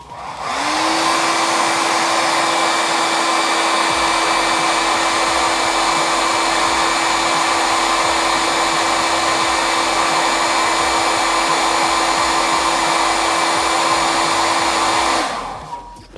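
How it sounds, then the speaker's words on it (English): A hair dryer switches on and blows hot air at a steady high whir for about fifteen seconds, heating a smartwatch during a teardown, loud and close, then cuts off. "So let me give the heat using hair dryer."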